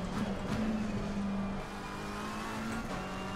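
Race car engine in the racing simulator Assetto Corsa Competizione, a steady droning tone that rises and falls in pitch as the car accelerates between corners, with faint tyre noise and no talk.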